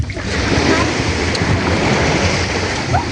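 Sea waves wash onto a hot beach in a loud, steady roar of surf mixed with wind buffeting the microphone, with no clear voices.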